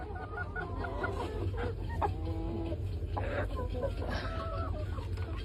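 Hens cluck in short, scattered bursts over a steady low hum, with a few louder calls standing out among the flock.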